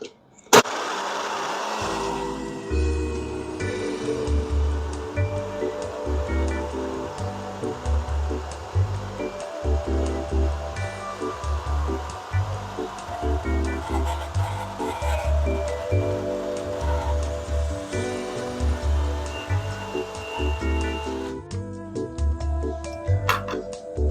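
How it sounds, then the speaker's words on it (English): Loud, sustained whir of a countertop blender blending a smoothie, starting with a thump, then a pulsing grind for about twenty seconds before cutting off, with no voices. "now we're ready to blend. Put our blender on here"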